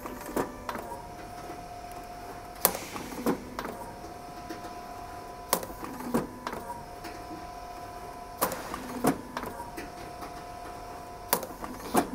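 A PPGI rectangular downspout roll forming machine runs with a steady mechanical hum, interrupted every few seconds by sharp metallic clanks and thumps, moderately loud and close, with no talking.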